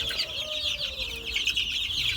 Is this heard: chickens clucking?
yes